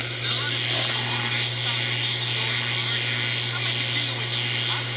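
A GE P-965B unit running on battery power gives off a steady, loud broadband hiss with a tonal whine that continues unchanged throughout.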